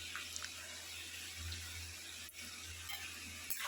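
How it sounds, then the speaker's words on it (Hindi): Water poured from a small bowl into a pan of masala and fried potatoes for a mustard potato curry, a steady broadband hiss and sizzle running close and fairly loud throughout, with no talk. "साथ ही हम कटोरी में थोड़ा सा पानी डालेंगे, उसे भी इसमें डाल देंगे।"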